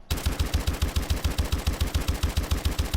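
Pytaek gun fired in full auto with rapid fire in Call of Duty Advanced Warfare, a loud, even stream of about eighteen shots with a steady rhythm and no gaps.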